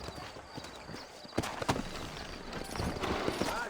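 Horse hooves in Red Dead Redemption clip-clop at an easy walking pace, a run of clear knocks over a soft background hum.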